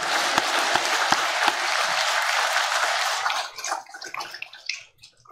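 A church congregation at a 50th anniversary founding service breaks into loud, sustained applause that stops abruptly after about three seconds, leaving a few scattered claps and murmurs.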